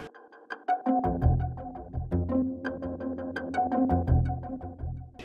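A Reason 10 synth plays its default patch: a bright, plucky melodic line driven by an LFO, with rapid repeated notes over a bass figure, heard alone and up close.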